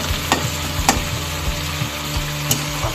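Dried chillies, onion and garlic frying in oil sizzle steadily and close, with a few sharp clicks of a spatula or spoon against the pan breaking through the continuous crackle, no voices.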